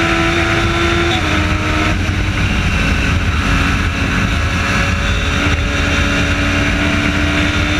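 Onboard a Radical SR3 race car lapping the Nürburgring Nordschleife, the engine roars loud and constant at high revs, with quick upshifts early on, then sustained full-throttle drone and no talking.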